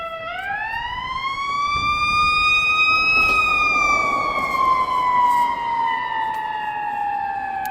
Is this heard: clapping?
no